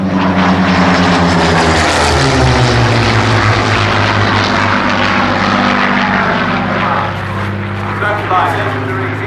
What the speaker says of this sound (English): here it comes, the one and only Supermarine Mark II Spitfire!